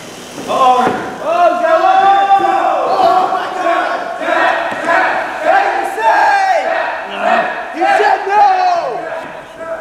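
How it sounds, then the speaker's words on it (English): A wrestling crowd chants and yells in loud rhythmic waves close by, with bursts of cheering and shouting, plus occasional thuds from the ring under the din. "Crowd is loving this."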